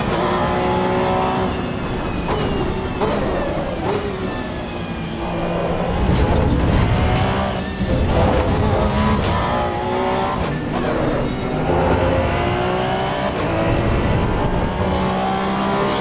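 A race car in Assetto Corsa Evo revs hard through manual gear changes, its engine note climbing and dropping continuously at close range, with tire squeal and the roar of competing cars mixed in.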